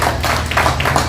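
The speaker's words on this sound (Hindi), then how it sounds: "उनके लिए जोर से तालियां।" Loud, dense applause from an audience at a Bharat Vikas Parishad Indraprastha oath-taking ceremony, steady clapping for the team throughout with a few louder bursts.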